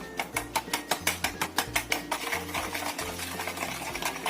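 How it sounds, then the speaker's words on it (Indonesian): Batter is stirred in a bowl until the sugar dissolves, as a snack is made. A utensil scrapes and clicks against the bowl in a quick, even rhythm, close and clear, with no talk. "Kita aduk sampai rata pokoknya."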